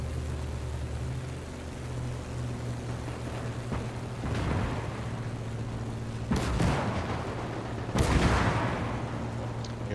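Enemy gunfire in a video game, a few sharp broadband bursts around the middle and end of the clip over a steady hum of background game noise, moderately loud and with no talk.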